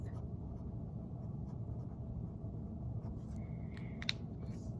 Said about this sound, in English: So we write the date.